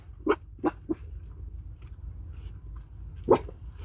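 Several large dogs bark outdoors, three quick barks close together, then a pause and one more loud bark, over a low steady background.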